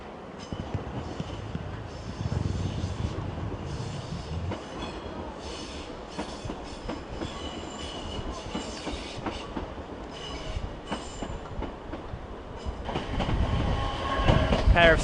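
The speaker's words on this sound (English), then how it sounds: "just one Southwestern Railway 455 with a service to London Waterloo" A South Western Railway Class 455 electric train runs past at Clapham Junction, loud and close, with steady rumbling wheels and clattering over rail joints for the whole stretch, swelling louder near the end.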